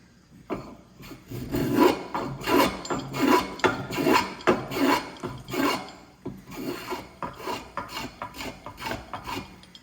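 A hand rasp works a wooden hammer handle in steady, rhythmic strokes, each a loud, close scraping rasp, repeating about twice a second before slowing and softening toward the end.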